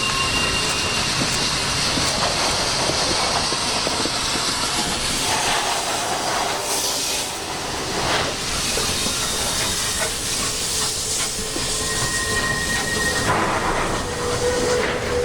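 N&W 611 steam locomotive running by beneath a pedestrian bridge while pulling a short freight consist with a combine car, a loud, continuous steam roar and hiss with rolling rail clatter throughout and no talk.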